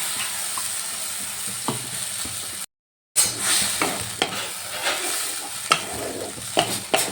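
A spoon stirs whisked sour yogurt into a frying pan for a pomfret curry, with steady scraping strokes and a soft sizzle, broken by a brief silent gap, and no voices.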